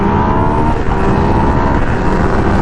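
A 2016 Yamaha FZ-09 motorcycle engine pulling hard in second gear near fifty miles an hour, a loud, steady, throaty roar with strong harmonic drone and wind rush throughout.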